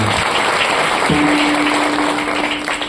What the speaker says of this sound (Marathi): एकदा साऊंडवाल्यांकरता जोरात टाळ्या वाजवा.